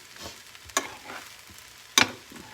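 Rice for shrimp fried rice cooks in a pan under a soft sizzle, broken by two sharp scraping stirs of a utensil about a second apart.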